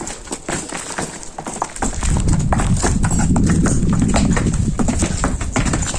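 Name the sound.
donkeys' hooves clip-clopping on trail, Petra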